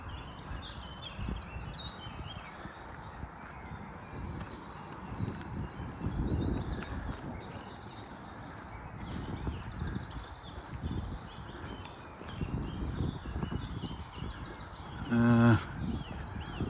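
Spring birdsong in Shire Brook Valley, Sheffield: several birds chirp and trill in repeated bursts over a soft outdoor hum, with one brief louder call near the end.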